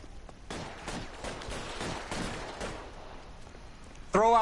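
Gunfire in the L.A. Noire video game, scattered shots cracking at a moderate distance in a loose burst, followed by a sharp ringing tone near the end, with no voices.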